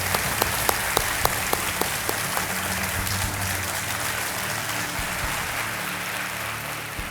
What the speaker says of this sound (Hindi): तालियों के साथ आपका स्वागत करते हैं।